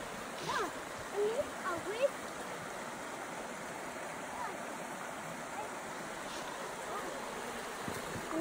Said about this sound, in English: we just found a big, beautiful creek